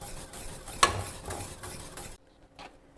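A whisk stirs béchamel sauce in a pot as milk is worked in, a steady close scraping and swishing with one brief clink, then the sound cuts to near quiet.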